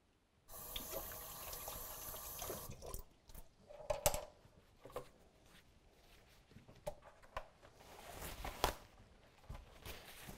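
Running tap water over hands at a sink in a kitchen during cupcake decorating, a steady gush for the first couple of seconds, then intermittent splashes and drips as the hands are rinsed, fairly close and moderately quiet.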